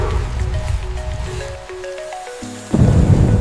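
Rain and thunder in a forest, used as a storm effect: a steady wash of rain with faint melodic tones over it, a deep rumble building, then a loud close crash of thunder near the end.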